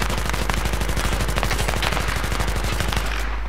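Rapid automatic gunfire in the shooter game Battlefield 3 rattles in a continuous loud, even burst of shots for several seconds before cutting off abruptly.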